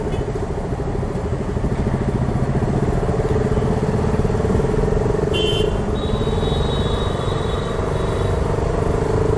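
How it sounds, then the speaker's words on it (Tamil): A KTM Duke 200 motorcycle engine drones steadily and loudly up close while riding through heavy city traffic, with a brief high car horn toot partway through and a sustained higher horn tone after it. "இங்கே வந்த பிறகு பயங்கர டிராஃபிக்கு"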